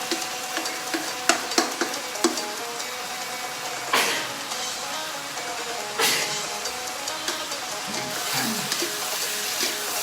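Stink beans stir-fry in a pan with shrimp paste and minced pork, a continuous close sizzle broken by irregular clacks and scrapes of a utensil against the pan, with no talk.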